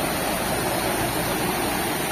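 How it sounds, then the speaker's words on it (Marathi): Close by, a small waterfall beside a road in Konkan pours with a steady broadband hiss and rush, uninterrupted and free of talk. "हा बघा जबरदस्त वॉटरफॉल आहे"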